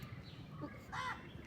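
A crow gives a single short caw around the middle, fairly faint against quiet outdoor background noise.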